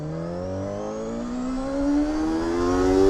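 A Honda CBR 250RR, a carbureted high-revving motorcycle, climbs steadily through its revs with a rising whine that grows louder toward the end, heard alone and close.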